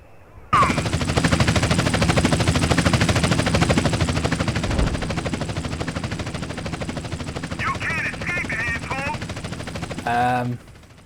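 Loud, steady rotor chopping of a helicopter in GTA San Andreas dominates throughout, with bursts of gunfire-like clatter and a few brief electronic chirps near the end.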